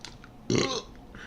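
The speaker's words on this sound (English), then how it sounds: "I can stop burping" A single loud, gurgling burp erupts after a moment of low background noise, close and brief, with faint sounds around it.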